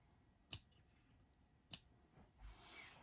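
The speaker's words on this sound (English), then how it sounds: "I'm just going to trim not up to, just about up to the seam line, but not through the seam" Two crisp scissor snips trim fabric close to a seam on a curved slipcover edge, spaced about a second apart and close by, followed by a soft rustle of cloth.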